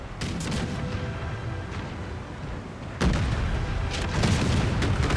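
Cannon and musket volleys roar across an Empire 2 Total War battlefield, a continuous rumble of booming artillery and crackling gunfire, with a heavier wave of volleys breaking out midway.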